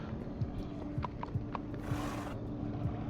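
A horse in Minecraft Story Mode plods along with rhythmic clip-clop hooves, close and steady, with a brief snort or whinny partway through over a quiet background.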